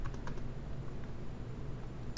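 Quiet clicks of computer keys, a few soft taps spaced across a short stretch over a faint steady hum, with no talk.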